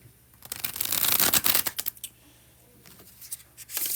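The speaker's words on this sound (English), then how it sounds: "The first bridge shuffle." A deck of tarot cards is bridge shuffled nearby, a fast papery riffle lasting about a second and a half, then quieter shuffling and handling of the cards, with no talking.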